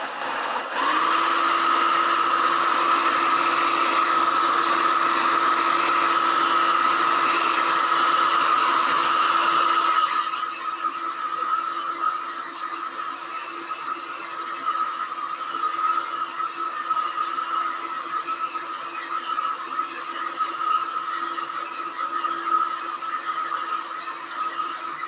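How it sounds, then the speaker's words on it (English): A hair dryer drying paper roars loudly and steadily for about ten seconds, then drops to a quieter, lower whir for the rest. "I'm going to dry this quickly with a hair dryer."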